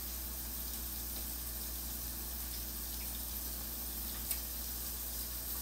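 A steak frying in a Rachel Ray skillet gives a steady, even sizzle and crackle under a constant low hum, with no talking.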